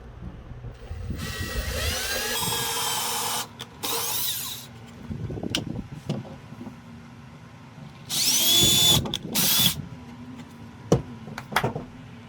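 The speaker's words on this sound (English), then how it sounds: "we want to pre-drill here." A power drill pre-drills holes during a custom desk build, heard as three sustained high whining bursts, the longest around two seconds, with quieter handling knocks and clatter between them.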